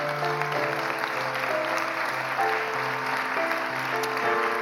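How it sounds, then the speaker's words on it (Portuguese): A church congregation clapping together after a sermon, a continuous wash of applause at moderate loudness with a sustained musical tone underneath, no speech. "dê um aplauso a Deus por essa palavra."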